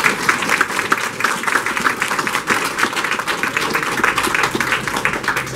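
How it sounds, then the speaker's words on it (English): Applause for community stakeholders at a North Valley Area Planning Commission meeting, loud and close, many people clapping in a brisk, continuous patter with crisp individual claps standing out. "Give them a round of applause."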